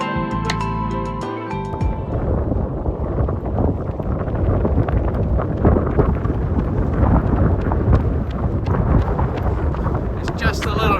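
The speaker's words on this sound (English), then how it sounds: "It's just a little bit windy" Strong wind buffets the microphone in continuous low rumbling gusts after a brief snatch of music at the start, on race day at the 2025 Boston Marathon.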